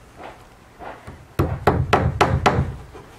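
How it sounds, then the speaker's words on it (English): Hammering 1 3/4 inch nails into a wooden fascia board on a shed: a few soft taps, then five solid, close knocks in quick succession, with no talk. "We're going to use 1 3/4 inch nails along the edge here"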